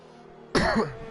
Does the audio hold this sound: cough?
yes